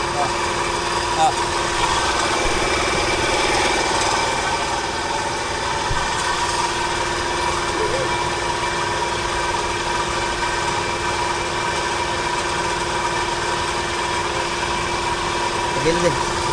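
An engine idles steadily and continuously throughout, a constant mid-low hum with faint vibration, while people talk over it in Filipino.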